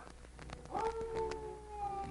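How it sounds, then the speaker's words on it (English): Short coyote-like howl with a rising, wavering call in a radio drama western, fairly faint and set apart from the dialogue with no voices over it. "Me hear bark of coyote."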